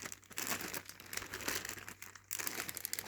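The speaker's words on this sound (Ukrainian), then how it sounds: "тут не пакет з пакетами, це упаковочна бумага. Така пленка" Packaging paper and plastic film being crinkled and handled, continuous dense crackling and rustling with brief pauses, close and fairly loud, no talking.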